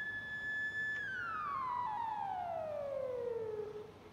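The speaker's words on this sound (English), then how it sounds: "You were hitting the siren." A fire truck siren in the video game EmergeNYC holds a steady wail, then slides down in pitch and winds down over several seconds, fairly faint and alone.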